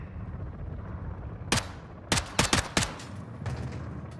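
Gunfire in the video game Call of Duty: Modern Warfare II: a lone sharp shot, then a tight burst of four quick shots and a softer trailing shot over a steady low ambient rumble.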